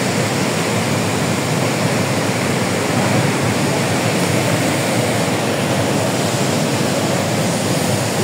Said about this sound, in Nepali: अहिले चाहिँ खोला एकदमै सुकेका कारणले थोरै पानी आएको छ